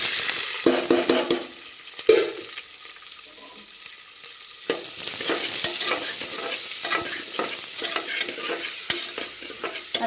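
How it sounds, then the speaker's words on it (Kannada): Onions and chillies hit hot oil with spices in a pan, a sharp burst of sizzling followed by softer crackling and intermittent stirring scrapes, close and without talk. "ಇವಾಗ ಈರುಳ್ಳಿ ಹಾಕೋಣ, ಚಟ್ಪಟ."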